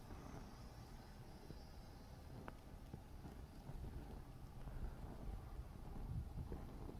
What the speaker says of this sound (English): the wind starts to pick up